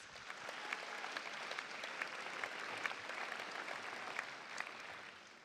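Audience applause for city department heads and officials at the San Jose mayor's State of the City address, a steady dense wash of many hands clapping throughout, even and sustained with no voices above it.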